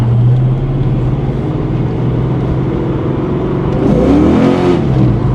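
A stock Foxbody Ford Mustang engine roars close and loud as the car accelerates, the note climbing and revving hard near the end, with no voices.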